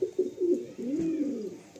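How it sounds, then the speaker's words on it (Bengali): An old pigeon in a loft coos in a low, throaty rolling call, a few short notes followed by one longer drawn-out coo, close and clear. "এটা অনেক পুরাতন পায়রা"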